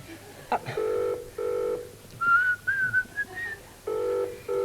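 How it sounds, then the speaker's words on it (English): An old-fashioned telephone rings in short repeated bursts on a live studio stage, with a whistled melody and playful noises in between, heard fairly close. "Rachel, your phone's ringing."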